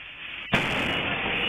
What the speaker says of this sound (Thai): นี่คือเสียงแรงระเบิดนะฮะ